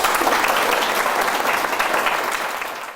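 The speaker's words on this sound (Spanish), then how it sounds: "Nuevamente aplausos para todos" An audience applauds steadily for about three seconds at the opening of an international gathering on oral traditions and stories, the dense clapping fading slightly toward the end with no voices over it.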